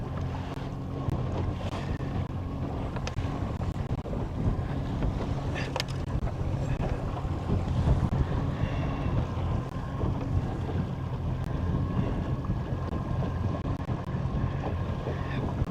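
A bass boat runs on its big outboard motor across a lake, a steady dense engine roar and hull rumble blended with gusting wind buffeting the microphone, continuous throughout with no talk.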